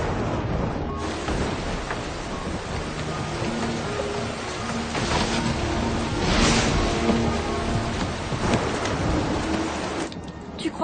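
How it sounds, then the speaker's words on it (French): A heavy rainstorm pours down steadily with dense close hiss, while rumbling thunder rolls beneath it and swells midway through, no voices heard. "Il tombe des cordes."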